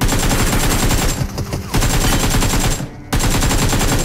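Rapid automatic gunfire fills a round of the PUBG video game, loud close bursts of rattling shots broken by two brief pauses.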